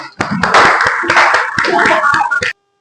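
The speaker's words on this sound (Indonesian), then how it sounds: "beri tepuk tangan" A classroom of students claps their hands at a teacher's prompt, a dense burst of close, loud clapping lasting about two seconds before stopping abruptly.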